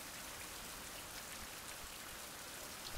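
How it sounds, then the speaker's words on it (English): Steady rain pours in a survival video game, a continuous even hiss of drops on surfaces at constant moderate level with no voices. "I cannot see anything with this rain, man."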